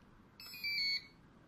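A single electronic beep from an INJES MYM7-W access control unit, high-pitched and steady, sounds for about half a second in a quiet room, fairly faint.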